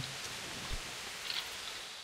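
Light, steady rain from the video game Kingdom Come: Deliverance, a soft even hiss with faint patters, quiet and continuous throughout.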